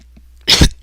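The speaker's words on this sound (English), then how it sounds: "I'm sick of this cough." A cough, close and loud: a brief rasp followed by a second sharp burst, with near silence before it.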